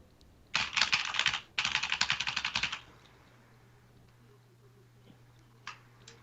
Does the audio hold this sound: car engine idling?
no